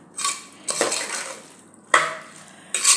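Pav bhaji vegetables with spices being stirred and sautéed in a pan, giving a few separate bursts of scraping and clinking of a spoon against metal with light sizzling between them, near and alone.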